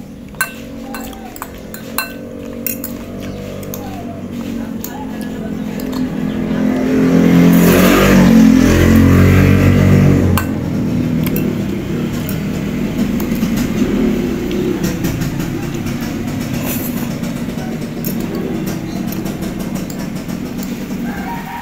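Road traffic passes beside a roadside eating spot in an unbroken rumble. One vehicle swells louder as it goes by in the middle, with scattered clinks and knocks close by.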